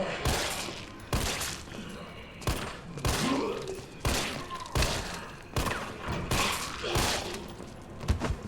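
Repeated gunshots in the video game Resident Evil 3, sharp loud reports fired roughly every second with a thudding weight, continuing steadily throughout.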